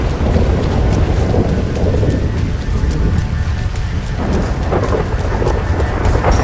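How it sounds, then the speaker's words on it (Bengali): Steady heavy rain hisses throughout with a deep, rolling rumble of thunder underneath, dense and continuous with no voices, from the video game GTA 5. "বৃষ্টি হচ্ছে"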